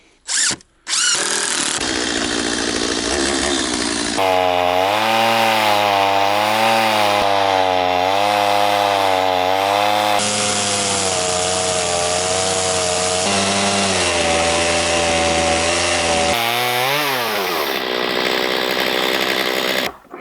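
A chainsaw fitted with a crosscut chain rips lengthwise through tree wood, the engine screaming loud and close under load for a long continuous cut, its pitch dipping and rising as the bar bites.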